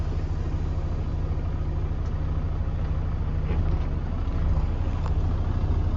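A Class A truck creeps forward in low gear with its parking and trailer brakes released, a steady diesel engine drone with strong low harmonics holding close and even throughout, rising slightly toward the end.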